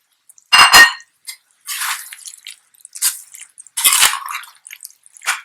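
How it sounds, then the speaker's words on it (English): Soy sauce slurry poured into a ginger garlic stir fry, giving a few wet splashing and dripping bursts with short gaps between, close and fairly loud with no talking. "now I'm just going to add the soy sauce slurry to this"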